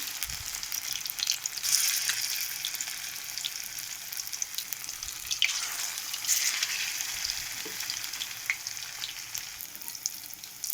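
Soybean fritters frying in hot oil for a vegetarian curry, a steady bright sizzle throughout with occasional soft stirring and clinks, close and alone.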